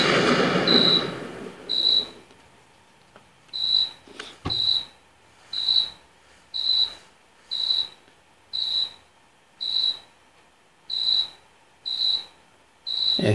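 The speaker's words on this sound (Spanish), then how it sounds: "Este grillo como rompe la bola." Cricket chirps in the video game PUBG Lite: a clear, high-pitched trill repeating steadily about once per second, close and alone after a brief rustle at the start.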